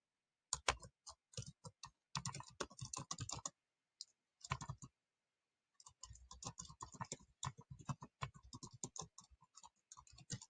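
Typing on a computer keyboard while writing Python code: bursts of quick, close key clicks with short pauses between groups, ending in a denser run of keystrokes.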